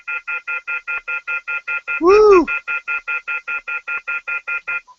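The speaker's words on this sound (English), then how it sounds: "What's that noise coming out of that phone?" A telephone emits a rapid, evenly spaced run of bright electronic beeps that continues steadily, with a brief vocal exclamation breaking in midway.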